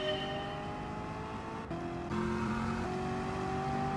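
Chevrolet Camaro race car engine in a Daytona 500 racing game, a steady, sustained drone with a brief dip near the middle before climbing to a slightly higher, louder pitch, with no talk.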